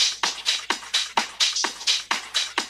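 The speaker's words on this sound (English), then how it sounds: "these are just very full drum loops that instantly add a lot of grit and character" A gritty, full old-school drum loop for house music with a steady beat of punchy hits and bright cymbal wash, repeating evenly without any voices.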